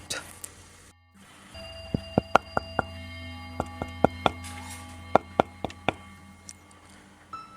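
Someone knocks on the front door of a house, a series of sharp, separate raps in short uneven bursts over a low steady hum, heard close and with no voices over it.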